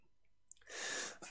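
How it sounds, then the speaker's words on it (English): A single sneeze bursts out close by during a quiet chess session, a sharp broadband blast of about half a second, followed by a brief trailing breath. "Sneeze."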